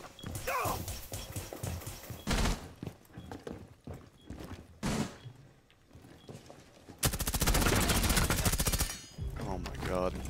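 Gunfire in Rainbow Six Siege comes in several sharp bursts, ending in a long stretch of rapid automatic fire, with players talking between and under the shots.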